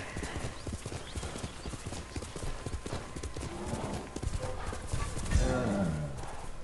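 Horse hooves clip-clop steadily on the ground in the Ghost of Tsushima video game, a brisk continuous rhythm with a brief whinny near the end, while someone talks over it.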